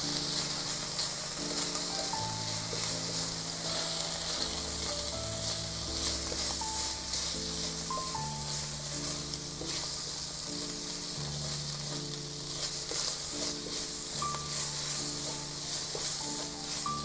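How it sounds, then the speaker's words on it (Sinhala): Prawns and chicken fry in a pan with a continuous close, loud sizzle that runs without a break, while a soft tonal melody plays underneath. "ප්‍රෝන්ස් එච්චර වෙලා බැදෙන්න අවශ්‍ය වෙන්නේ නැහැ."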